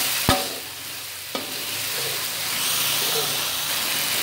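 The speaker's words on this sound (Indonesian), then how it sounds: "Ini kita tumis dulu sampai beraroma." Galangal, bay leaves and lime leaves sautéing in oil, a steady close sizzle and hiss punctuated by two sharp knocks of a utensil on the pan, followed by softer stirring.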